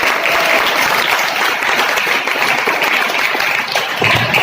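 Loud, steady applause from a school audience at a scouts and guides welcome event, filling the whole moment with dense clapping and no pause.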